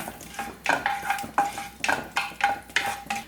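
Two cloves and two cardamom pods fry in oil for spinach rice, with a light sizzle under a series of sharp, evenly spaced stirring clinks and scrapes against the pan, close up and without speech.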